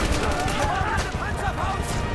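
Machine gun fire in a World War II video game set in an African campaign, a dense continuous rattle of rapid shots mixed with battle noise and voices.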